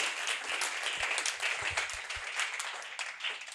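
A church congregation applauds and claps in praise to God, a dense, sustained wash of many hands with a few sharper claps standing out.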